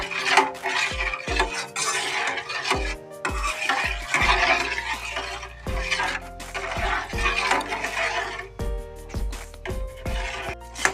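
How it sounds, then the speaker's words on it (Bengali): A utensil stirs milk in a metal pot on the stove, scraping and clanking against the sides in an irregular, busy rhythm, close and fairly loud, with no talking. "এটা আমি নাড়তেই থাকবো যতক্ষণ না এটা ফুটে আসছে, ততক্ষণ আমি নেড়েই যাবো"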